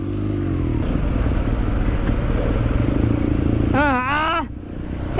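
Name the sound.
motorcycle engine while riding in second gear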